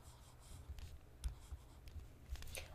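Chalk or marker taps and scrapes across a board while math is written, quiet and close, in short irregular strokes with no talking.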